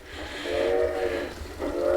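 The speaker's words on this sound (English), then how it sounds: "There's the little train running." Model train fitted with Kadee couplers running on a layout track, a continuous mechanical rumble with a rising whistle-like tone sounding twice, close by with no talking.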